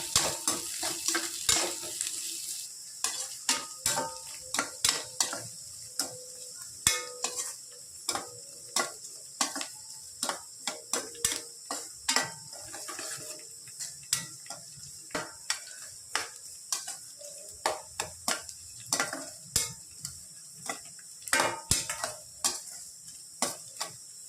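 Green chilies and onions fry in a pan for a drumstick sambar, a soft sizzle beneath frequent sharp clicks and scrapes of stirring, steady and close with no talking.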